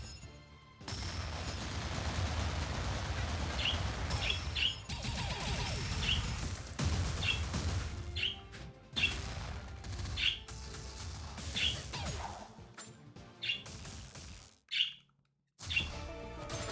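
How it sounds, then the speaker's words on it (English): An excited bird chirps repeatedly in the background in spring, sharp bright tweets recurring every second or so over intermittent thumps and noise. "in the background, I'm sure you can hear a very excited bird"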